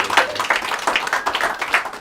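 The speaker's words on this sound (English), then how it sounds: "let's give her a round of applause" An audience claps and applauds for a speaker at an entrepreneurship event, a dense, lively round of hand claps in quick irregular rhythm, fairly close and sustained throughout.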